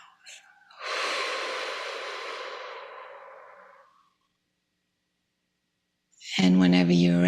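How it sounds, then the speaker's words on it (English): One long, breathy exhale through the mouth lasts about three seconds and fades into silence during a guided breathing exercise. A voice then begins speaking near the end. "Breathe in through the nose. Exhale through the mouth."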